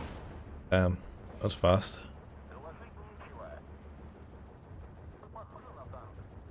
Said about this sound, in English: there comes the artillery already